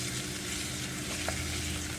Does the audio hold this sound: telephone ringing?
no